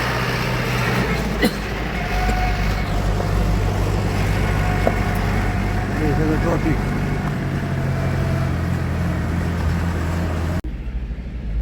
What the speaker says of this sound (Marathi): आता समोर ट्रॉफिक भरपूर ट्रॉफिक आहे